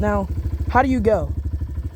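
A motorcycle engine idles in a low, pulsing chug as the clutch lever is let out in first gear, close and steady beneath someone talking over it.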